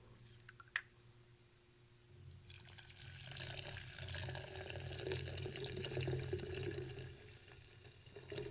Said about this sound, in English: I'm going to pour this into my giant Fancy Sip goblet.